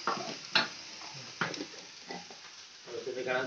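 A spoon scrapes and stirs kheer inside a pot in a few separate strokes, with a soft sizzle in the background and quiet voices.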